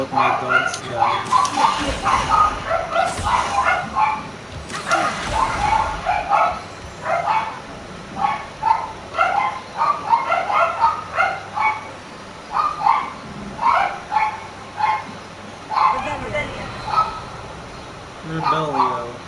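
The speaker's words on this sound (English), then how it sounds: "I'm so sorry about my dogs" Several dogs bark and yip repeatedly in short, uneven bursts, close and loud, with quieter stretches of whimpering between the louder volleys.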